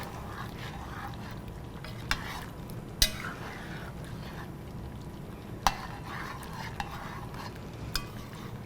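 A thickening meat and vegetable stew is stirred slowly in a pot, with a low steady simmering bed broken by a few sharp clicks of the spoon against the pot, close and fairly quiet.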